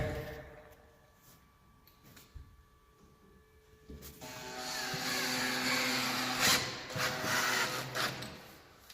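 A power driver sinks a screw into a wood cap rail joint held by flat bar: quiet handling, then a loud sustained whirring drive that rises and holds for several seconds, close.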